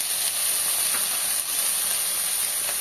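Beans and carrots frying in a pan for upma give off a steady, fairly quiet hiss and sizzle that continues without a break, with no voices over it.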